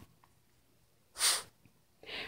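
A pet dog gives a sharp, close nasal snort, followed a moment later by a second, longer breathy exhale through the nose, over a quiet room background.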